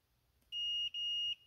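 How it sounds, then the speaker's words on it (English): A multimeter gives a continuity beep across closed distributor points on a John Deere G tractor, two clean high-pitched electronic tones in quick succession in a quiet room. "listen in for a beep from my multimeter here"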